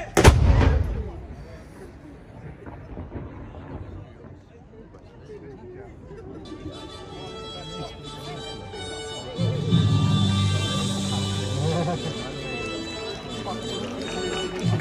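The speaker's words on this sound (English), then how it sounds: "we hope that the gun was loud enough and that you've enjoyed today's firing." Ceremonial gun firing in Valletta, Malta: a single loud boom right at the start, echoing away into a murmur of crowd chatter and outdoor bustle that swells again later.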